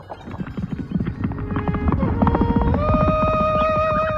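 A horse's hooves clip-clop at a steady trotting rhythm, growing louder as it rides through a town, with a neigh and a swelling musical score layered over the hoofbeats.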